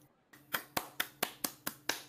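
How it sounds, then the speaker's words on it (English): Eight sharp hand claps in a steady, even rhythm, close and fairly quiet, each a crisp isolated strike with a short decay and brief silence between them. "I'm clapping."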